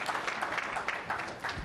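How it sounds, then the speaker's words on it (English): Brief, fairly faint applause from a conference audience during a Visual Studio debugger tips session, a short burst of scattered clapping. "Feel free to spontaneously applause at any time."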